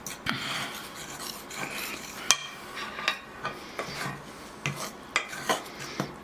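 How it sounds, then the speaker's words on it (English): A fork mixes biscuit dough with buttermilk in a bowl, making close scraping and rubbing strokes with repeated light clinks of metal against the bowl in an uneven rhythm. "Mix it up with a fork"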